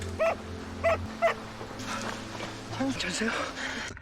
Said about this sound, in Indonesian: mendengar gonggongan anjing